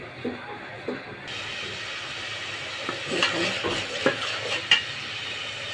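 Bay leaves and whole spices fry in hot oil in a pan, a fine crackling sizzle that swells partway through, punctuated by a few sharp clinks and stirring knocks, with no speech.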